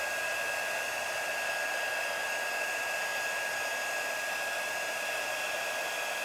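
A heat tool blows steadily and close, warming embossing powder until it melts on a spooky webbed gift box, a constant airy whoosh with a faint high whine and no talk.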